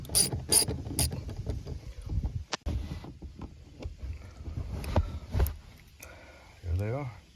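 A ratchet works out a 12mm bolt behind the seat of a 2010 Hyundai Elantra, a string of quick clicking bursts with scattered metallic clinks and handling noises at close range.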